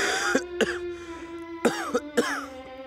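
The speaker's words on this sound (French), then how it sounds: "Cette toux me domine." A character in a French comedy sketch coughs and clears his throat in several sharp, close bursts, about five harsh hacks spaced unevenly over a few seconds with no talk between them.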